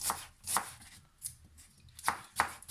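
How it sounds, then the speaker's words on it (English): Knife slicing red and white onions finely on a board for homemade spicy ketchup, with a few crisp chopping strokes spaced apart over a quiet kitchen background. "grab your onions and slice them finely"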